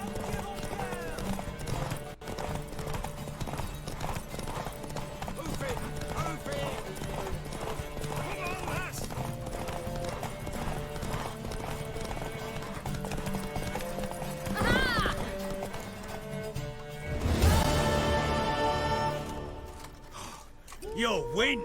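Horses gallop in a race in The Witcher 3, with steady rhythmic clip-clop hoofbeats and a couple of neighs and whinnies, while characters talk over the pounding hooves.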